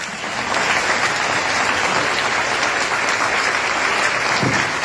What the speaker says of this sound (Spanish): Fuerte el aplauso para todo el equipo de Fénix 4, felicitaciones.